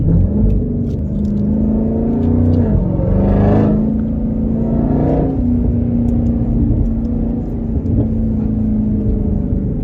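A 2020 Jeep Trackhawk's engine gives a steady, loud low rumble while driving, with a brief rise in revs partway through, heard from inside the cabin with no talking.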